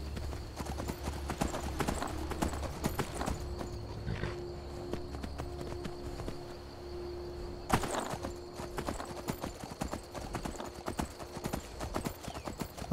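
Steady clip-clop of horse hooves trotting at an even rhythm in the video game Skyrim Special Edition, over a low background hum, with no talking.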